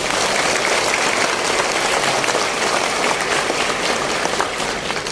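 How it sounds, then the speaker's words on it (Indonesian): A full room bursts into sustained applause for migrant workers chosen to depart for Korea, thick, even clapping from many hands with no break, loud and close. "Tepuk tangan dulu buat mereka."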